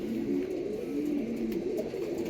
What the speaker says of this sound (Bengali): দেখো পায়রাটা টুকটাক